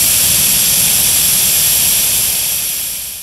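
High-pressure gas escaping from a well test separator valve gives a steady, loud, broadband hiss that fades slightly toward the end, with no voices present.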